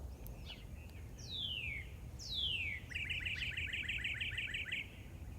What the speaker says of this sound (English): a northern cardinal is singing